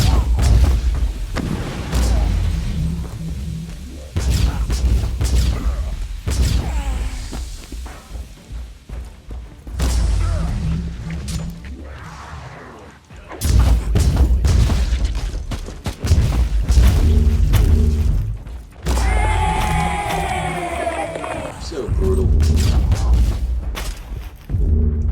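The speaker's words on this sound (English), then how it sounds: "So that was the gravity gun" Heavy booming blasts from a gravity gun in the game Warhammer 40,000: Inquisitor - Martyr, repeated thuds and explosive bursts with clanking mechanisms and chaotic combat noise, a voice talking over parts of it.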